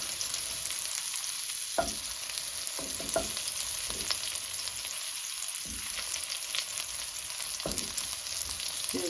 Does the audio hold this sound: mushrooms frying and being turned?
yes